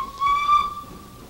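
A steam engine whistle sounds alone in one steady, clear, sustained tone lasting about a second, with a soft breathy hiss around it.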